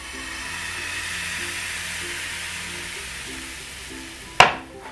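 Pancake batter sizzles in a frying pan with a steady, close hiss, ending with a sharp knock as the pan is moved.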